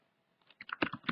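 A short burst of keystrokes on a computer keyboard as a terminal command is typed, a quick irregular patter of soft close clicks, quiet, with no voice.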